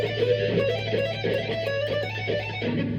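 Electric guitar plays the solo intro of a song as a steady, moderately loud run of sustained melodic notes over a constant low hum, with no voices.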